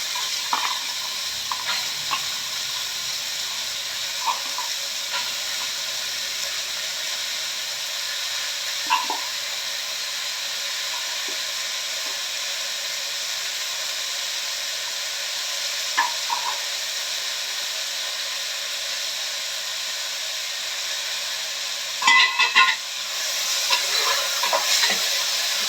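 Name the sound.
frying washed fresh cowpeas in a pan while stirring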